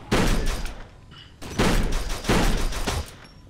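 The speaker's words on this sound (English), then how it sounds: "Oh, there you go, you're shooting people now." Heavy gunfire in Kane and Lynch 2, three loud, noisy bursts of rapid shots separated by brief quieter gaps, close and harsh with no voices over them.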